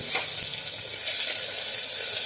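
Tomatoes dropped into hot oil give a loud, steady hiss of sizzling that holds evenly throughout with no voices.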